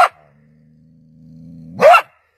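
A close dog gives a sharp bark, growls low for a moment, then lets out another loud bark.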